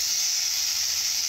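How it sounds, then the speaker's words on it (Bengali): Dried chillies and onion frying in hot oil give a steady, fairly soft sizzling hiss, close and unbroken for a second or so, with no voices. "শুকনো লঙ্কা আর পেঁয়াজ দেব ভাজা করার জন্যে।"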